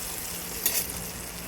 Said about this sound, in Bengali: এটা একটু নেড়ে নেব। দেখো বন্ধুরা, এর মধ্যে গাজর, আলু, ক্যাপসিকাম দিয়েছি